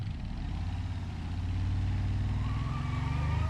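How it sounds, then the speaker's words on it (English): A 1940s car engine idles steadily up close, a low rhythmic chugging like an old piston airplane engine, growing slightly louder, with no voices. "It sounds like an airplane engine, like an old piston airplane."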